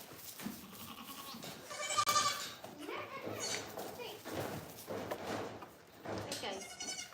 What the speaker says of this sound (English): I am being overrun by goats.